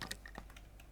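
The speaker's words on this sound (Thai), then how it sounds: "ขออภัยในเสียงเมาส์คีย์บอร์ดนะครับถ้าได้ยินนะ" Quick computer keyboard keys and mouse clicks, a short burst of light close taps at low level with no voices.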